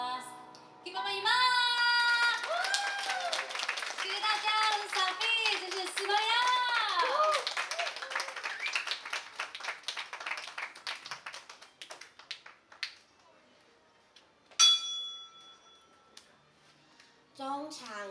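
Hand claps from a Bunun children's clapping song at a live stage performance, steady rhythmic claps under children's singing, then a few sparse, louder claps once the singing ends.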